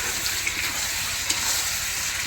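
Chicken cooking in a pot over a stove sizzles with a steady, close hiss, and a few light taps and scrapes from stirring come through.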